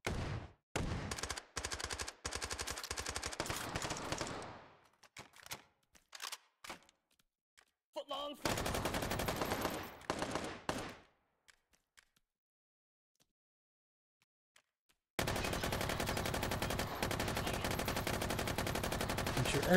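Rapid bursts of Uzi submachine-gun fire in Hot Dogs, Horseshoes & Hand Grenades on HTC Vive VR, with loud stuttering volleys, short gaps and a near-silent stretch before a long sustained burst to the end.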